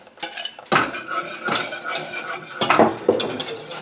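A utensil stirs an egg and hot milk gravy in a pot, giving close, continuous scraping and clinking strokes with a few louder bursts and no talking.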